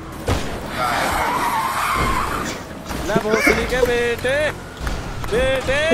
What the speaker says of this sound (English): I'm also driving an FAV now.